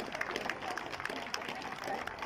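Applause for a shawm band at a maypole raising in Stolpen, a dense, fairly distant patter of clapping from the audience that continues across the short clip.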